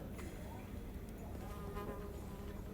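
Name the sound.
buzzing swarm of bees in the video game Shadows Over Loathing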